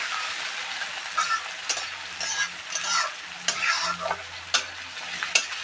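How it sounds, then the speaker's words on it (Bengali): Chopped tomato fries in a pan with ginger, garlic and onion, a steady close sizzle broken by repeated scraping and clacking of a spatula as the mixture is stirred, no voices. "টমেটো দিয়ে আমি আদা রসুন পেঁয়াজের সঙ্গে সুন্দর করে ভাজা করে নেব।"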